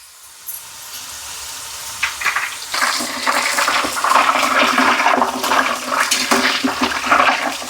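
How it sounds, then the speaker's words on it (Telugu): Salt water poured into hot oil where potato chips cut from ordinary curry potatoes are frying, giving a sudden loud roaring hiss and crackle that swells after a quieter start and stays steady and close, with no talking. "సౌండ్ చూడండి వాటర్ వేయంగానే."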